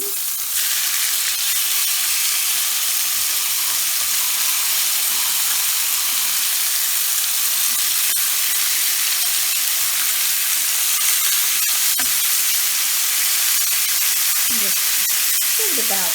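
Pork chops sear in a hot pan with a loud, steady sizzle and hiss that runs unbroken throughout, with faint scraping at moments.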